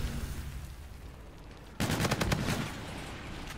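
Rapid gunfire from a gun in a first-person shooter video game, a loud burst of quick shots that begins partway through and lasts under a second over a steady background hum.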